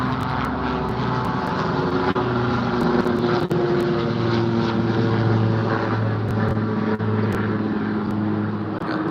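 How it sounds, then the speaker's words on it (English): A steady video game helicopter engine drone with a low rotor-like hum runs continuously at a constant loud level, with no voices over it. "Okay, we got the copter."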